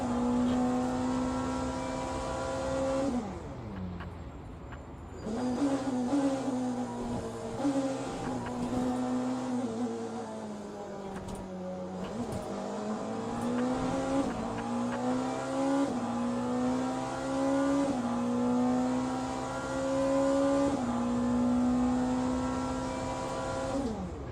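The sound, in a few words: race car engine idling in video game Le Mans Ultimate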